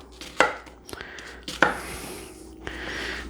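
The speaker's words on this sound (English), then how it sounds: "We got our onion. Again, we're going to just slice it down and give it a rough chop." A knife roughly chopping an onion on a cutting board: two sharp, close chops stand out, with lighter cuts in between and after.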